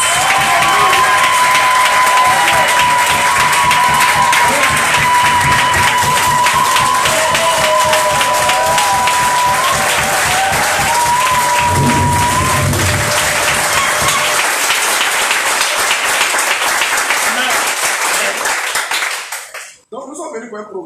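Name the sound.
congregation applause and cheering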